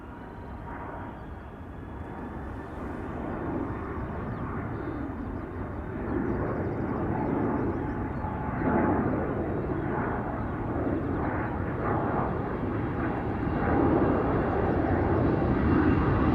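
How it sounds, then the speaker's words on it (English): An Airbus A330 departs Schiphol Airport, its broad jet engine roar building steadily from moderate to loud across the take-off roll, a continuous distant rumble with no talk over it. "A330 outbound to Cape Town is also taking off from center right now."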